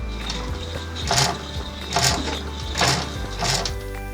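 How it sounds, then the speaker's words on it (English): An embroidery sewing machine doing satin stitching hums steadily while its needle chatters in a fast mechanical rhythm, with brighter clattering surges about once a second, close and alone. "put it back into the machine, and it'll be ready for the final satin stitching."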